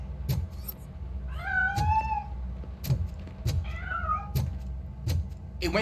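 Within the video game RoboCop: Rogue City, a cat escaping from a piano meows twice in drawn-out rising cries, amid sharp repeated clicks and thumps over a low ambient hum.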